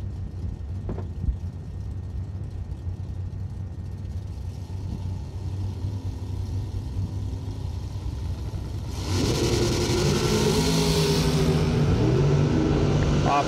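Drag race cars launching at a Christmas bash event, a Mopar against an Opel: a steady engine rumble with ambient noise, swelling into a louder broadband roar partway through as the cars pull away, with announcer talk over it.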